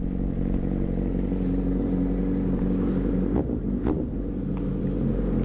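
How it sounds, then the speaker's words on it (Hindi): A Suzuki Hayabusa motorcycle engine warms up with a loud exhaust, giving a steady, close, heavy rumble with a few sharper clattering blips near the end. "This is one of the loudest bike."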